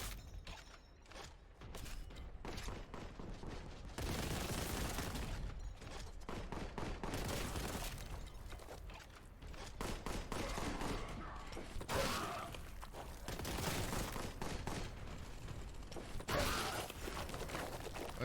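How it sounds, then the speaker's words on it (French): Enemy gunfire in the shooter game Warhammer 40,000: Boltgun, dense rapid bursts of shots and impacts nearly continuous throughout, loud and busy with mechanical clanks and debris, no talk. "il s'arrête pas de tirer lui, il a peut-être une autre arme"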